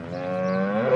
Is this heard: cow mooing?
yes